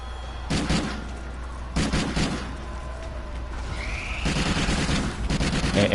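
A PlayStation 4 shooter game blasts out gunfire: three dense bursts of rapid shots, roughly two seconds apart, over a constant low rumble of game background sound, with no talk.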